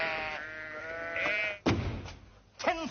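A sheep bleats close by in two bursts, one near the middle and a wavering cry at the end, with talk and room tone underneath.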